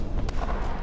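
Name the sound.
rocket artillery firing in the video game Dust Front RTS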